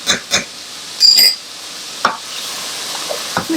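Garlic hitting a hot pan during meal prep, a light sizzle with a few utensil scrapes and taps against the pan, close and steady.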